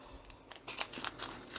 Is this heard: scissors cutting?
yes